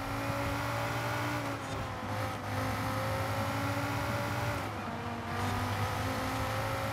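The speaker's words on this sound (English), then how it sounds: "let's jump back in and hear the car a little more" Naturally aspirated car engine from Forza Horizon 5 revving loudly and steadily throughout, with strong low harmonics and slight dips in pitch, heard alone without talk.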